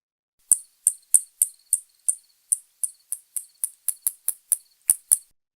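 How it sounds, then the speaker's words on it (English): A hunting spotted bat gives a series of about fourteen sharp, high-pitched echolocation clicks, evenly spaced at first and then coming faster, each crisp and isolated against silence. "that one was a spotted bat and it was hunting"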